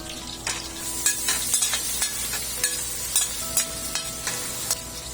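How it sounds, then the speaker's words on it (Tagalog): Garlic, onion, tomato and chilies sauté in oil, a steady close sizzle punctuated by repeated scraping stirs and light clicks of a utensil against the pan, with no talking. "dito na natin gigisa yung ating bawang, sibuyas, kamatis at ng mga sili"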